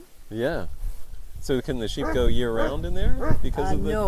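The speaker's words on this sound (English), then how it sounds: "Sorry for the barking dog." A dog barks and yips at a vineyard in Quebec, a few short yelps early on, then people talk over it for the rest.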